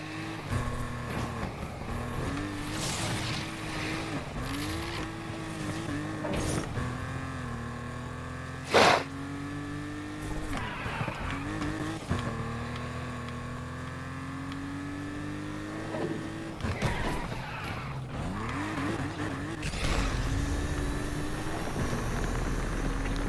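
Racing car in Need for Speed Unbound sliding and skidding, its engine droning steadily with rising and falling pitch sweeps and a brief sharp screech midway, loud and continuous with no talking.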